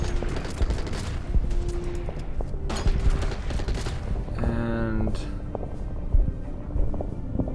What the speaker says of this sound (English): Get my own artillery landed. Start pounding this one.